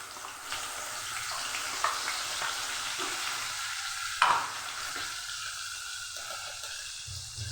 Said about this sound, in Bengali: এবার দিয়ে দিচ্ছি একটা বড় সাইজের পেঁয়াজ বাটা